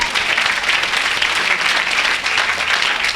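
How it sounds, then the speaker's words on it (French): A church congregation applauds for Jesus, a loud sustained burst of clapping from many hands that holds steady throughout, with no clear speech on top. "Acclamez pour Jésus."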